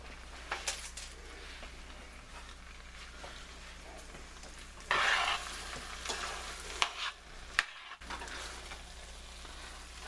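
Pistachios stirred into a cheesy vegetarian pumpkin pasta in a pan, a soft continuous scraping and sizzling with a brief louder rustle midway and a few sharp clinks of spoon on pan, no talking.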